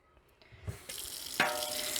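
Kitchen tap turned on into a sink, a few light knocks and clicks and then a rising steady gush of running water, heard up close while a whole pasture-raised chicken is prepped for rinsing.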